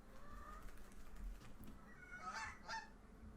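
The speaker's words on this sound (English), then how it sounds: "Oh, it's a geese." A goose in the video game Backbone lets out a couple of quick, nasal honks, faint and set against a quiet background.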